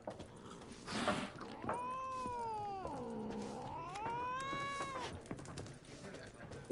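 A cat in The Witcher 3 meows in a long, drawn-out caterwaul whose pitch slides down and then back up. It is clear and close over quiet ambient game sound, and a brief breathy noise comes before it.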